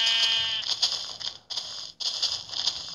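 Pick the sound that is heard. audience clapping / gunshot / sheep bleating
sheep bleating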